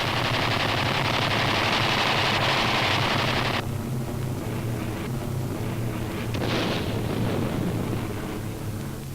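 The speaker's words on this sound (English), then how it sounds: "Strafing from an altitude of 500 feet, A-36 fighter bombers destroy 40 enemy motor transport confirmed and 36 damaged." Rapid machine-gun fire from A-36 fighter bombers strafing motor transport near Velletri in 1944, a loud continuous rattling burst that drops off partway through into rumbling gunfire and dusty blasts, with no voices.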